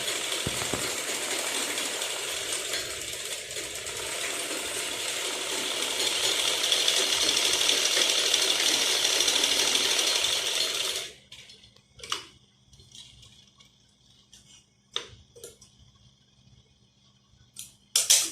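A sewing machine runs in one steady, loud, continuous whir while stitching a salwar seam a second time, then stops abruptly, leaving scattered sharp clicks and small mechanical taps.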